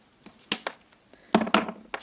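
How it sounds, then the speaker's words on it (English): A few sharp snips of a flower stem being cut for a spring floral arrangement, quick crisp clicks in two clusters with a short pause between, close and fairly quiet. "I'm just going to cut"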